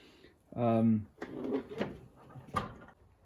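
A toolbox drawer slides open with a brief squealing screech, followed by a few light clunks and rattles of metal tools close by.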